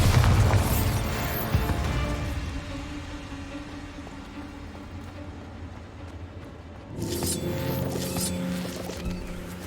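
Bombarda spell explosion inside a cave in Hogwarts Legacy: a heavy blast rumbles loudly at the opening and decays into a low hum, then a second burst of crackling debris and rumble arrives about two-thirds of the way through.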